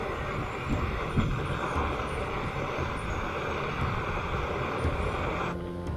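A Jetboil gas camping stove burns outdoors on Ilkley Moor while boiling water, giving a steady, close, broadband roar that holds evenly throughout, with some wind buffeting.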